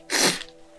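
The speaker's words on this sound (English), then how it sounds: "So I'm gonna sneeze." A single sharp human sneeze, close and abrupt, with a quick burst of breath that fades within a fraction of a second.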